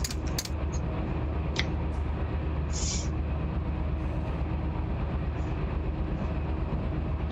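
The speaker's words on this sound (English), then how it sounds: "I'm operating the train." A freight train in the RUN8 train simulator game, a BNSF run, rumbles steadily with a constant low drone and a few brief metallic clicks and squeals near the start, loud and continuous without talk.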